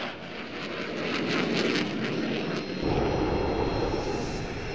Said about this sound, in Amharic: ሱ 27 ተዋጊ ጀት አውሮፕላን